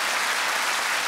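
A crowd claps steadily, a dense, continuous burst of applause with no talking over it.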